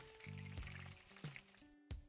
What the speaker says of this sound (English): let's go ahead and start frying the donut